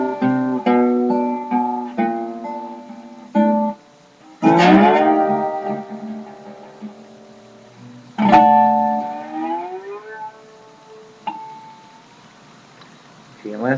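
Picked electric guitar notes in open G tuning, then a slide starting at the nut glides upward along the strings in long swooping pitch rises that ring out and fade.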